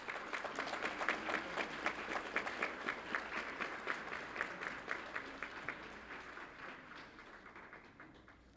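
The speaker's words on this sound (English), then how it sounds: "Let's give them a round of applause" A room full of people clapping steadily, the applause moderately loud and fading out toward the end, with no voices standing out.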